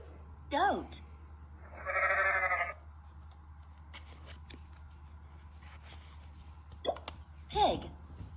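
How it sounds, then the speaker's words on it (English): A goat gives one long, wavering bleat, loud and close, with a short spoken word just before it and brief voices afterward. "Goat."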